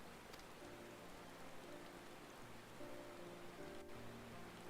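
Rain falls steadily in the video game Final Fantasy XIV, a soft, even hiss of drops laid under a faint, sustained musical drone.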